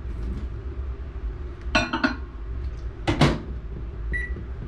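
A microwave oven heating soft plastic for hand-poured lures hums steadily, with two clattering bursts as the door or container is handled and a short beep near the end.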